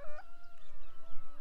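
Chickens, young roosters and hens, clucking softly nearby in short, murmuring bursts on an off-grid homestead in rural South Africa, with a brief higher call at the start; no talking.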